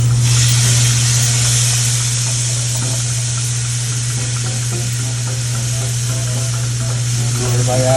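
Marinated shrimp seasoned with bam spice sizzle in a hot pan, a loud, steady hiss with stirring scrapes and crackles over a constant low hum.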